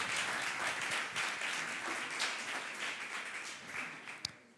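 A hall audience applauds a candidate at a thesis presentation contest, steady crowd clapping that gradually thins out, with a sharp knock near the end.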